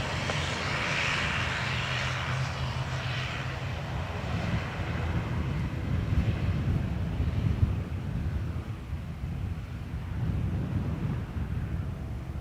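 A British Airways airliner landing at Dublin Airport, its engine roar and rushing air filling the whole stretch, steady and loud with a slight swell in the middle, no voices.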